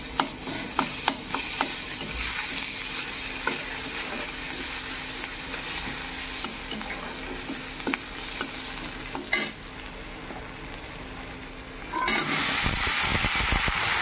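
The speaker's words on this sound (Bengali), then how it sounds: "এখানে পেঁয়াজগুলি ভালো করে ভেজে তারপরে আলুগুলি দিয়ে দেব" Onions frying in a pan ahead of potatoes being added, a steady close sizzle with scraping stirs and occasional clinks, ending in a louder, fuller hiss.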